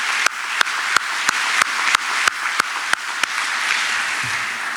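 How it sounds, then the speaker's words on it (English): An audience at the closing ceremony of the African Development Bank 2023 Annual Meetings claps in a hall, a steady wash of applause cut by loud, regular claps close to the microphone that fade out near the end. "I would like us all to applaud the great effort he has done through the meetings"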